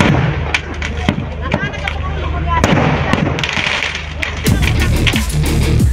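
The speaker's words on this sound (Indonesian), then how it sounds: "Kebakaran ini sempat membuat panik warga karena tumpukan kembang api dan petasan ikut meledak." Stockpiled fireworks and firecrackers explode inside a burning village shop house, giving repeated loud sharp bangs and crackles over a constant roar, with people's voices in the background.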